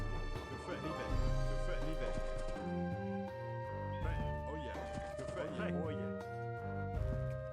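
Horse hooves clop across a bridge in Age of Empires II, faint beneath louder game music with a steady melody and bass, the hoofbeats and a few scattered clatters only softly audible.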